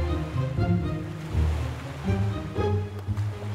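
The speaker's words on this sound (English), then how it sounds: "That's why the waves are so wild." Wild sea waves in a cartoon surge and roll in uneven swells, loud, low and turbulent, with rushing water peaking in several bursts over a few seconds and no speech.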